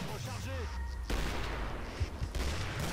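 Shotgun buckshot fire in Killing Floor, loud booming blasts amid chaotic combat noise, several shots in quick succession with a voice speaking briefly near the start.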